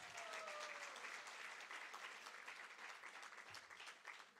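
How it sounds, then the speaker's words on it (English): An audience at a women's dialogue event at a university claps in sustained, even applause that fades slightly toward the end, heard alone without talk. "she deserves another round of applause"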